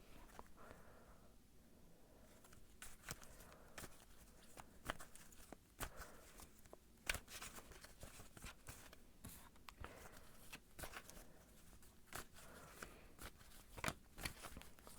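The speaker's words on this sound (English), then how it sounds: "I'm going to shuffle a little bit more" Quiet shuffling of tarot cards close up, with soft riffles, taps and slides of the deck coming in irregular bursts through a hushed room.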